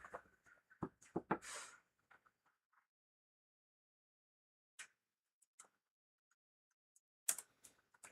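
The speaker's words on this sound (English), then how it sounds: "And typing in the chat." Bursts of computer keyboard typing, fast clustered clicks at first, then a long pause and scattered isolated taps, close but quiet in a silent room.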